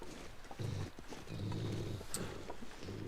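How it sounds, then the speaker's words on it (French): A wolf eats a deer in The Long Dark video game, giving low growls and rough snarling bursts that repeat over a few seconds, faint and grainy with no talk. "c'est un loup, il bouffe un cerf, il est très content"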